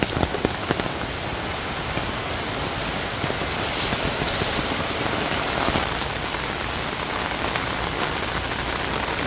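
Heavy, relentless rain falls on a mountain, a thick steady roar of water with occasional louder spatters close by, swelling slightly midway and never letting up.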